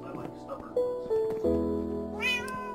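A cat in Minecraft gives several short meows in quick succession, heard over steady game background sound with a person talking in between.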